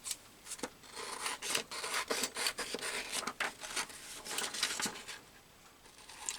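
Quiet, steady rasping snips of scissors cutting a bird out of printed paper, an uneven rhythm of short cuts repeating close by.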